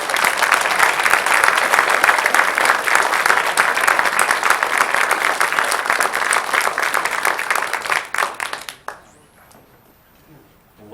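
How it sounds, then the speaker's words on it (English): An audience at a school board meeting applauds three JROTC instructors with loud, sustained clapping that holds steady, then tapers off abruptly and leaves near quiet at the end. "So please give them a round of applause."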